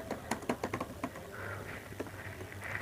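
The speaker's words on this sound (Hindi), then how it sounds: "लेफ़्ट साइड में देख के टाइपिंग करना है" Rapid clattering keystrokes on a computer keyboard during typing practice, a quick irregular burst of clicks followed by sparser taps over a soft background hum.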